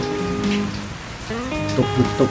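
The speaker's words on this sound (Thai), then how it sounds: "ฝนตกนะครับผม" A brief burst of rain falls outdoors while grilled eggplant is peeled for a northern Thai dish, a steady patter of drops under background music, with no one talking.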